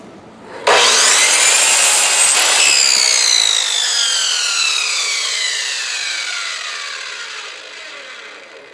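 A Harbor Freight miter saw, straight from the factory, cuts through wood: a sudden loud buzzing bite starts the cut, then a steady rasping grind slowly fades as the blade spins down, heard alone.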